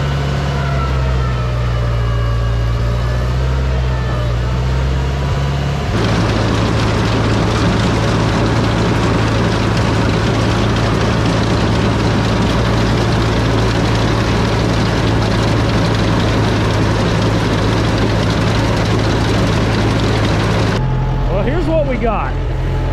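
A Farmall 504 tractor engine runs loud and close in a steady low drone, holding an even throttle with slight shifts in pitch and no talk over it.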